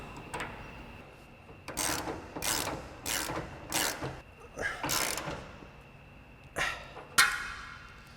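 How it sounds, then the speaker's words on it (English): A ratchet with a 27 mm socket tightens the front leaf spring bolt on a 2015-2020 Ford F-150, giving a series of close, crisp clicking bursts at an irregular pace with brief pauses between strokes. "tighten back down our front leaf spring bolt using our 27 mil socket on our ratchet"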